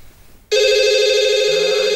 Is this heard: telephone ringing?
yes